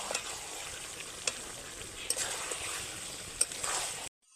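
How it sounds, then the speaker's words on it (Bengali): Mayonnaise chicken stir-fried in a pan, a continuous sizzle broken by sharp scraping stirs and light clinks, close and fairly quiet, cutting off abruptly near the end with no voices. "আরও কয়েক মিনিটের জন্য আমি চিকেনটাকে কষে নেব।"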